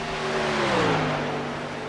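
Racing truck engines rev in a truck-series racing video game, a steady, loud mechanical drone with rising and falling pitch that sweeps across the whole stretch.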